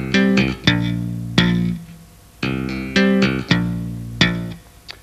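A tapped bass phrase of hammer-ons and thumb slaps, a run of crisp percussive note attacks in uneven groups with ringing decays between them, close and alone.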